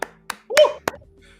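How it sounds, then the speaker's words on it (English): Four sharp, isolated hand claps ring out at uneven intervals, close and distinct, with a brief tonal chirp between them and quiet in between. "A little round of applause there."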